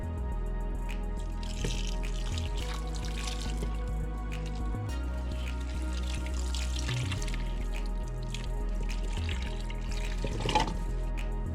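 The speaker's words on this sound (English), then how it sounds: "I'm going to pour some of the stock over top of it all." Stock pours over potatoes and carrots in a pot as a steady liquid trickle and splash, close and continuous under a low background hum.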